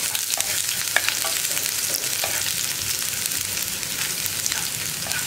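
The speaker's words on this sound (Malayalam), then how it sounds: "കടുകൊന്ന് പൊട്ടിത്തുടങ്ങുമ്പോൾ നമുക്ക് ഇതിലേക്ക് കട്ട് ചെയ്ത് വെച്ചിരിക്കുന്ന സവോള ചേർക്കാം" Onions sizzle with mustard seeds in a hot pan, giving a steady, fairly quiet crackling fry with occasional pops and stirring and no voices.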